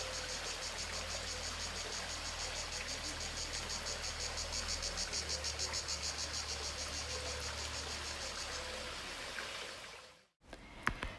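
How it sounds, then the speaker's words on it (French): Cicadas sing in a dense, steady, loud chorus around a medieval village in the Lot, a continuous shrill pulsing buzz with no voices, cutting off abruptly near the end. "je vais vous laisser écouter les cigales"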